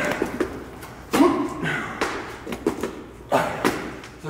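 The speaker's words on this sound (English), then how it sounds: "But now we do 3 burpees." A person doing burpees during a fat-burn workout circuit, with several loud, irregular thumps and thuds on the floor spaced about a second apart, close by, with some breathy movement noise between impacts.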